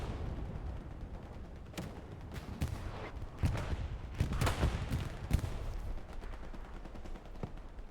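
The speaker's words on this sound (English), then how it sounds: "I'm guessing that's an AT gun as well, firing on the P4" In Hell Let Loose, a battle in Hurtgen Forest, an anti-tank gun fires on a Panzer IV amid scattered rifle and machine-gun fire, with sharp reports and booms over a busy, fairly distant rumbling backdrop.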